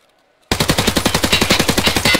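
A PPSh submachine gun fires in a video game, a loud, close, rapid-fire burst of evenly spaced shots that begins abruptly after a moment of near silence and runs continuously to the end.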